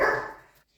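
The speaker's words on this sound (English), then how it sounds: "Please excuse my dog's barking." A single dog bark, moderately close and fairly quiet, fades out quickly, heard indoors during a craft session.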